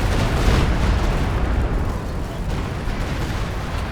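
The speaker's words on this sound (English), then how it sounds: "So he went for a close range Sexton barrage." A close-range Sexton artillery barrage in Company of Heroes 2 rumbles as a dense, loud wash of booming blasts and low explosions, continuous and heavy across the whole stretch.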